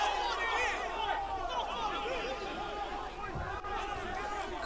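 Crowd at a West Coast versus Buller rugby match cheering for the Buller team, a steady dense murmur of many voices and chatter throughout.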